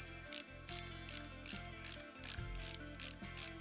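Ratchet clicking back and forth while backing out screws on the cover of an 883cc Harley-Davidson Sportster, a steady run of quick close pawl clicks in short strokes over a faint mechanical hum, with no talking.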